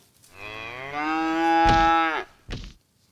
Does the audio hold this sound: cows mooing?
yes